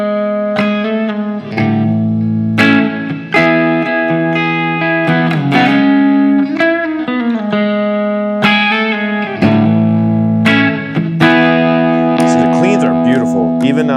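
A smart guitar, neck pickup selected, plays through the amp's built-in tones and is miked at the speaker cabinet with an SM57, ringing out as distorted, reverb-soaked notes and chords in a steady phrase of repeated attacks.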